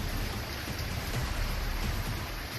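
Heavy monsoon rain and rushing floodwater in a river at Haridwar, where cars are swept away, a dense, steady roar of water and downpour with no break, loud and close, nothing else standing out.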